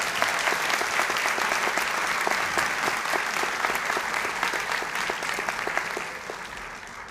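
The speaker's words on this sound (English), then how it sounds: "Shall we give her an applause?" Sustained, dense applause from a graduation audience at a Torrens University Australia business and hospitality ceremony. Loud, even clapping runs the whole stretch and eases slightly near the end.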